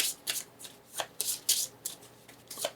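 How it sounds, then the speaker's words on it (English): Cards of the Black Witch's trials deck in the Septima board game being shuffled by hand, with a quick series of crisp riffling bursts repeating in an uneven rhythm, close and clear with no talking. "So we'll shuffle up the Black Witch's trials"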